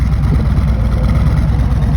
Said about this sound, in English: let me go ahead and give this thing some gas and showcase the engine a little bit